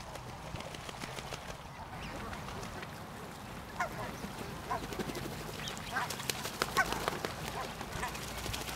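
Ducks quack in scattered, fairly faint calls against a steady outdoor background, with soft rustling and occasional sharper honks rising toward the end.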